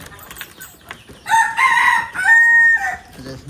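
Native chickens on a small backyard farm: a few soft, scattered clucks, then a long, loud crowing call that dominates the middle before trailing off.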